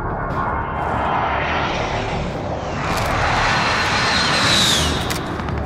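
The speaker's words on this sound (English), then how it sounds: "Enemy precision airstrike." Jet aircraft roar in from an enemy precision airstrike in Call of Duty Modern Warfare (2019), a loud sustained engine rush that swells toward the end, with a whistling high tone sweeping past near the close.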